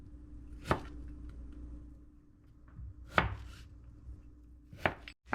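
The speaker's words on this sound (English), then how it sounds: "when I'm done chopping this last little piece up" A knife chops food into small squares on a board while preparing a brunch dish, with three sharp, separate chops a couple of seconds apart over a low steady hum.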